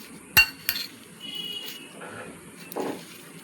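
A spoon knocking against a bowl while mixing mango pieces with black salt for a pickle, a couple of sharp clinks followed by softer scraping and stirring, close and alone.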